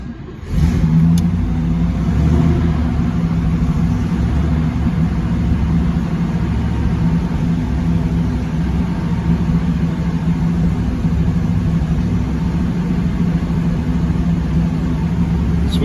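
A 1963 Oldsmobile F85 Cutlass engine runs steadily from a cold start, a loud, close, low rumbling drone that holds even throughout with no talking.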